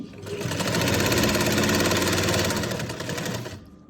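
Sewing machine running steadily while stitching the side seam of a kurti, a close, continuous whirring hum for nearly four seconds with no talking.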